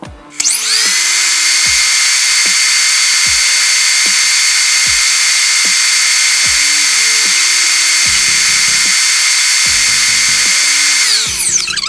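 Electric mixer whipping American buttercream on high speed: a steady, loud, high-pitched motor whine runs unbroken for the whole stretch, with faint clicks and knocks underneath.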